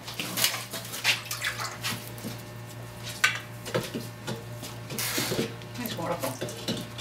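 Water is splashed onto wet scenery texture material for model scenery, heard as a run of close, irregular wet splashes and trickles with sharper bursts scattered over several seconds.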